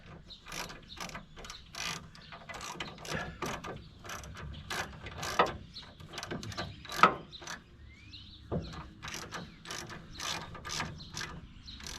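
Ratchet wrenches click rapidly in bursts while bolts are turned during the fitting of an LS V8 engine into an MGB, the metallic ratcheting close and repeated across the clip with short pauses between runs.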